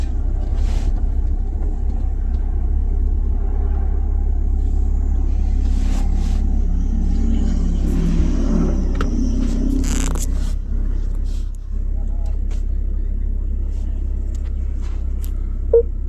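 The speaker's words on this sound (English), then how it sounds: "it's going to drive backwards exactly like I drove forward for 74 feet" A new car reverses automatically for 74 feet, making a constant low rumble of motor and tyres on the road, with faint scraping and rustling sounds partway through.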